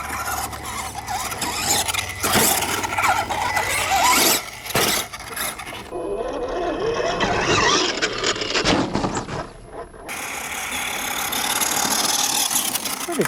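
FMS F100 RC monster truck running at speed, a loud, close whining electric motor and squealing tires that surge and drop through several bursts, then hold a steady high whine.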